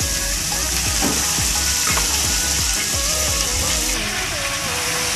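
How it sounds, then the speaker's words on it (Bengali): Chopped cabbage is frying with browned potatoes in a pan, making a loud, continuous sizzle with repeated scraping stirs underneath. "এবারে আমি এর মধ্যে দিয়ে দেবো কেটে রাখা বাঁধাকপি।"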